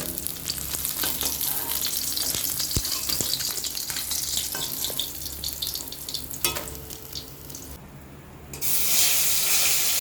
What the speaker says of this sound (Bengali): গরম গরম মাছ ভাজা